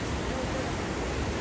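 Fast-flowing water at Kalammawadi dam makes a dense, constant rushing roar close by, filling the whole moment without a break, with faint voices under it.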